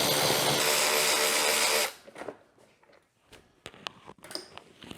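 A power tool runs loud and steady for about two seconds, driving out bolts from the rack mounts of a Yamaha Big Bear ATV, then stops, leaving quiet clicks and handling noises.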